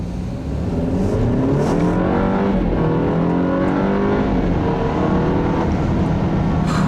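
A 2013 BMW 328i with a 2-liter turbocharged four-cylinder revs hard and steadily, its engine note rising and sweeping in pitch as it pulls, loud and close without pause.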